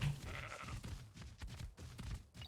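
Sheep in ARK: Survival Evolved (Genesis 2) bleat repeatedly in quick wavering calls, close and fairly loud, with game ambience underneath.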